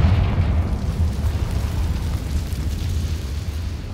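A Confringo fire spell explosion in a Hogwarts video game bursts with a deep, loud boom that rolls off into a fading low rumble.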